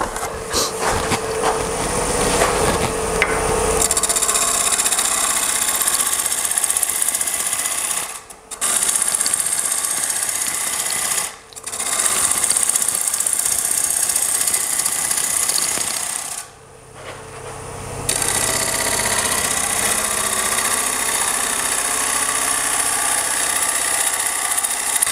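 A wood lathe spinning at about 1,000 RPM while a walnut bowl is turned, giving a loud, steady mechanical whir that drops out briefly three times and then resumes, with no talking.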